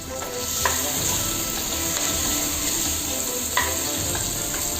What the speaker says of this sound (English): So our vegetables are getting fried well.